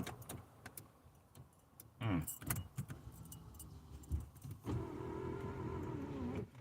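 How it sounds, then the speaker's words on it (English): Car power windows motor up with a steady whir inside a parked car, preceded by jangling keys and small interior clatter, fairly close and moderately loud with no talking. "Let me roll my windows up."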